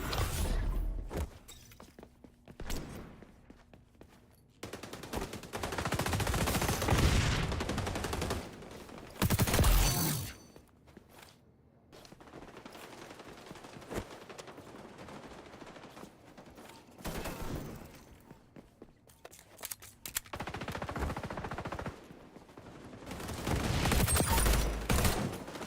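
Rapid bursts of shotgun fire in the online shooter XDefiant, with clustered blasts coming in uneven volleys separated by quieter gaps with footsteps and thuds.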